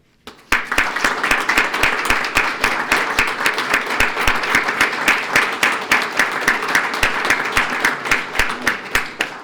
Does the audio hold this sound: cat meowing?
no